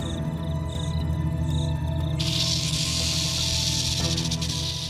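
A rattlesnake's dry, buzzing rattle starts after a couple of seconds and continues steadily, with a low drone and some earlier chirping underneath.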